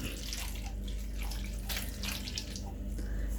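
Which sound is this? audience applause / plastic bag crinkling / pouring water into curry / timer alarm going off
pouring water into curry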